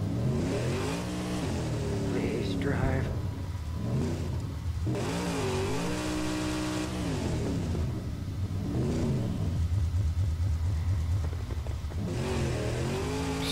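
In the Mad Max video game, a car engine revs hard again and again, swooping up and down in pitch over continuous rumbling driving noise, loud and close throughout.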